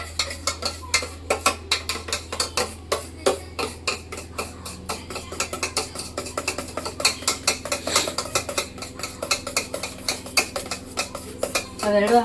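A spoon mixes badusha dough in a bowl, making quick, rhythmic clinks and scrapes against the sides that carry on steadily throughout, close and clear.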